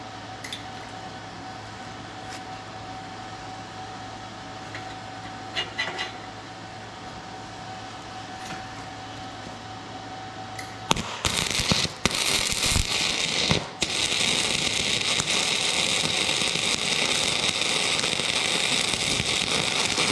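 Welding on a steel motorcycle rack carrier for a camper: quiet shop hum with faint clicks, then an abrupt loud, close crackling, sizzling arc that keeps going to the end, no talk.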